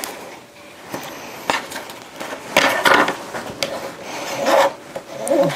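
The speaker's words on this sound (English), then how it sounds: "To burnish that down." Paper strips being burnished down onto a note card holder, heard as close, uneven rubbing and scraping strokes in short bursts of varying loudness.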